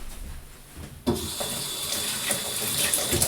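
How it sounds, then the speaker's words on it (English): Tap water runs into a sink as hands are rinsed, a steady hiss of flowing water that starts abruptly and continues close and loud with small splashing variations. "I gotta rinse this off my hands."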